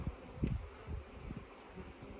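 Honey bees buzz around an open hive while a honey-laden frame is lifted out, a low uneven hum with small bursts, quiet and close, no voices.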